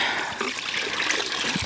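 Water splashes and trickles as fish are released back into a river after a fishing catch, with a steady close rush of flowing water and small splatters throughout.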